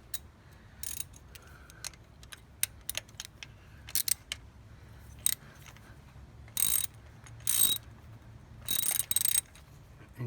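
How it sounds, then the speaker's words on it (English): Ratchet clicking while tightening a spark plug on a 2003 Toyota V6, sharp close clicks in short irregular bursts with a few longer grinding runs, alone and fairly quiet. "So I'll finger tight it, and I'll put the ratchet back on it."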